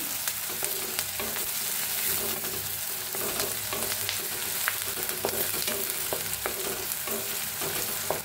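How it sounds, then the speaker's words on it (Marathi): Onion frying in hot oil in a pan while being stirred, a dense continuous sizzle broken by frequent sharp scrapes and clicks of the utensil, close up and with no talking. "आता तेल चांगलं तापले, त्याच्यात टाकूया कांदा। जरा कांदा भाजून घेऊया हलवून।"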